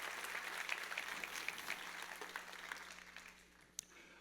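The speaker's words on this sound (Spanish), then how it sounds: "Dale fuerte ese aplauso al que vive" Applause from a church congregation during a worship service, a steady broadband patter of many hands that fades gradually over a few seconds, with a single sharp clap near the end.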